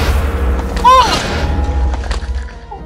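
A deep booming creeper explosion in a video game rings out over a rumbling, noisy background, with a brief rising whine around it and a voice faintly under the din.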